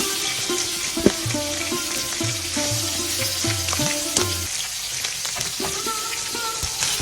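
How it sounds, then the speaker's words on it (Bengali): Hilsa fish frying in a pan, browned until red, make a continuous sizzle up close. Music plays over it, broken by a few sharp clinks and scrapes of stirring. "ইলিশ মাছটা আমি লাল লাল করে ভেজে নিব।"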